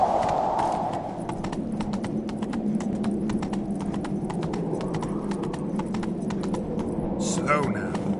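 Horse hooves clip-clopping in The Witcher 3 video game, a steady rhythmic trot of close hoofbeats over a low ambient rumble, ending with a brief horse snort or whinny.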